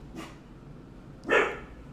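A dog barks in the background indoors, giving a faint first bark and then a louder, clearer one a second later.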